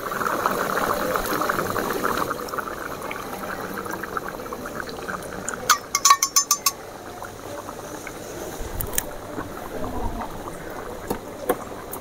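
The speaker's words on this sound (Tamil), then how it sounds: "கொதி வர ஆரம்பிச்சிட்டு குழம்பு நல்லா கொதிக்குது" A pot of chicken tamarind curry bubbles and simmers steadily, with soft liquid gurgles and a few small clicks and taps of utensils.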